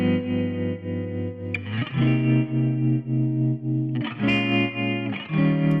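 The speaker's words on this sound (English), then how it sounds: "Now, I made that all from this guitar loop that I pulled off Splice." Distorted electric guitar chords ring out in a looping phrase from a sample loop, heavily processed with chorus and echo, sustained and buzzy with a few sharp string scrapes.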